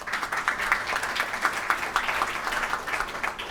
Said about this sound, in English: Please give him an applause and make him feel welcome.